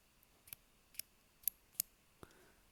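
Five sharp mechanical clicks of a Wurkkos TD07 flashlight tail switch, spaced about half a second apart, close and crisp against a quiet background.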